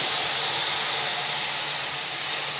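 A loud, steady hiss of steam and sizzling as water is added to a hot pan of broccoli, continuous and unbroken throughout with no voices.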